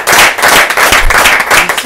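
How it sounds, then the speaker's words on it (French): An audience bursts into loud, close applause, a dense wash of clapping that holds steady for the whole stretch. "Donc, on peut l'applaudir"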